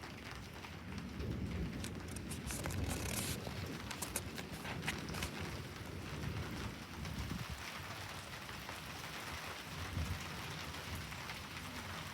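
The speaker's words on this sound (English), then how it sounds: "It's raining so hard." Heavy rain pours down during a thunderstorm, a loud, continuous hiss and patter with low rumbling underneath, steady throughout with no talking.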